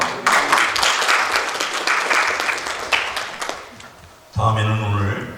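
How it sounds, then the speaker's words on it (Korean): Congregation clapping during a church service, a dense burst of applause that fades out, then a spoken voice takes over near the end. "박수."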